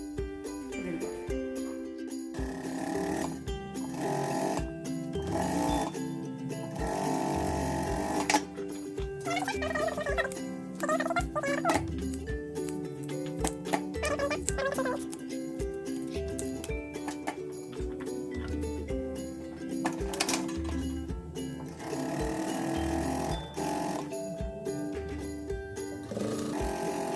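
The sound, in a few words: sewing machine stitching armholes of girl's sleeveless dress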